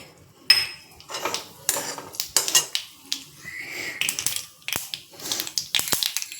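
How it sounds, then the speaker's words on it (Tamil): Mustard seeds dropped into hot oil in a pan for star fruit chutney pop and spatter in quick irregular bursts, sharp close crackles and clinks scattered across the whole stretch. "எண்ணெய் காஞ்சிட்டு கடுகு போடுறேன்."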